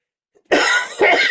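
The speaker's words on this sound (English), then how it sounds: "The lingering is the coughing" A sick person coughing: two harsh, close coughs in quick succession after a brief quiet moment, loud and alone with no talk.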